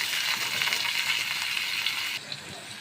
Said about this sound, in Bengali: পেঁয়াজগুলো একটু ভাজা ভাজা হয়ে গেছে